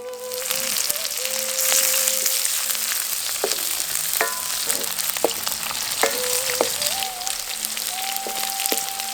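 Small onions and curry leaves fry in hot oil for brinjal gravy, a loud continuous sizzle with crackling pops and occasional stirring clinks, no voices.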